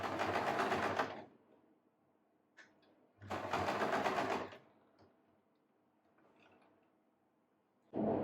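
A domestic sewing machine lock-stitching the side seam of a lined churidar, running in two steady bursts of about a second each with quiet pauses, close and clear, then starting again at the end.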